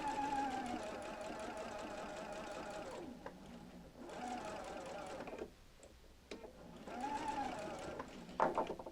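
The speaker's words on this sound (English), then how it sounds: "kind of holding it with my hands here, and sew around the arch" A domestic sewing machine stitches around the arch of a Double Wedding Ring quilt in steady whirring runs, pausing briefly twice between bursts, close and fairly loud with a few handling clicks.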